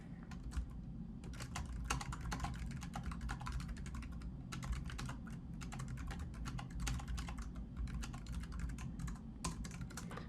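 Steady rapid clatter of fingers typing on a computer keyboard, close and continuous with brief pauses between bursts of keystrokes, no talking.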